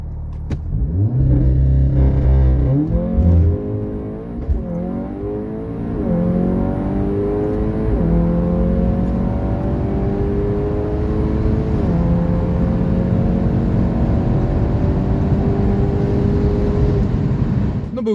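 A loud Audi S3 tuned to 399 hp revs hard from a standing start, climbing through several gear changes with rising whines and roaring exhaust, close by throughout.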